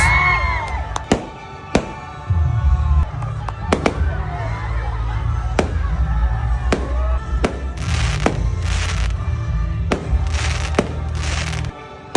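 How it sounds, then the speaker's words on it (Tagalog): Fireworks burst repeatedly at an amusement park in Pampanga, sharp booms and crackles popping over a steady crowd murmur, with bursts clustering more densely toward the end. "sa dulo niyan may napakagandang fireworks"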